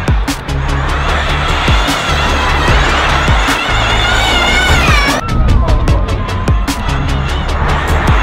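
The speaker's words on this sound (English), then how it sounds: "Group B Rally Car, the S1 Quattro is just going round with the Audi e-tron Dakar. It sounds insane." An Audi S1 Quattro Group B rally car and an Audi e-tron Dakar lap together at the Race of Champions, loud engine roar with rising and falling revs, tire squeal and sharp crackling pops, crowd faintly behind.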